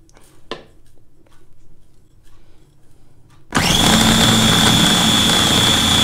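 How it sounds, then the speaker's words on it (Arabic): An electric blender whirs loudly as it minces three garlic cloves with starch and salt for a garlic sauce, starting abruptly after quiet kitchen sounds and running at a steady high-pitched drone to the end. "هنزل الثلاث فصوص ثوم بتوعي يتفرموا"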